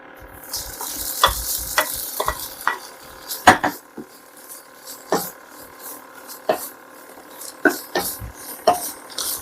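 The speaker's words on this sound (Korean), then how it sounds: "자, 이제 먼저 햄을 넣고 볶도록 하겠습니다." Spam ham stir-fries in a pan for fried rice, with intermittent sharp scraping and tapping of a utensil over soft sizzling, close and uneven, no voices.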